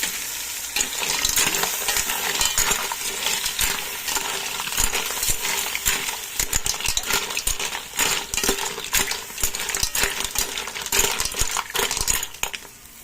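Mussels for ginataang tahong being stirred in a cooking pan, with a utensil clattering and scraping against metal in quick, irregular strokes over a constant close sizzle, lasting throughout with no talking.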